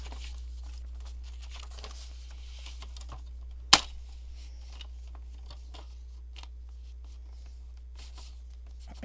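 A cutter blade slices through folded paper while making envelope pockets for a junk journal, one sharp, close cutting stroke partway through an otherwise quiet stretch with faint handling rustles.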